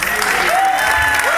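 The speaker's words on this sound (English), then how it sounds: "let's give them both a nice round of applause" Wedding guests in a pavilion applaud the newlyweds with a loud, dense burst of clapping. Brief voices and a cheer or whoop rise through it.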